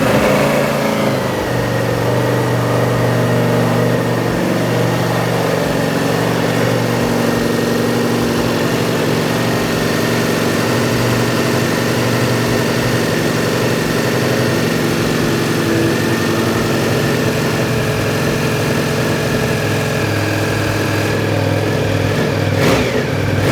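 A motorcycle engine fitted with a clear clutch cover runs steadily close by for the whole stretch, idling with a few revving swells, loud and continuous with no talk over it.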